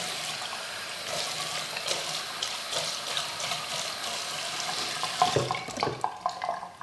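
Tap water runs steadily while a makeup brush cleaning mat is rinsed off, a continuous splashing hiss with a few sharper spatters and gurgles near the end.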